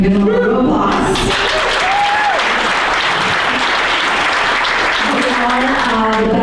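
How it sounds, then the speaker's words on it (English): A room of guests at the Spark Awards breaks into applause for employees at their tables, a loud continuous patter of clapping, with a voice speaking over it at the start and again near the end. "so you can give them a round of applause."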